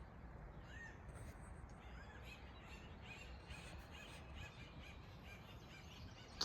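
Outdoors near a bigleaf maple seedling being repotted, a crow-like bird caws several times at a distance, faint and intermittent over a soft background hush, with no talking.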